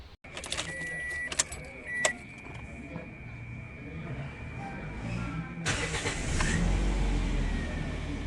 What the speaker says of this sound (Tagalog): Pa-start ko ulit itong makina.